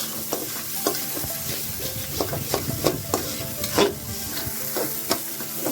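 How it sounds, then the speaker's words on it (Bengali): Greens frying in leftover fish oil in a pan, stirred repeatedly, with steady crackling sizzle and rhythmic scraping strokes of a spatula heard up close. "এটা দিয়ে ভাজা ভাজা করে ভেজে দেবো।"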